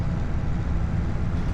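A large farm tractor engine pulls a cultivator through a field, giving a steady, loud, low diesel drone that holds even throughout with no voices.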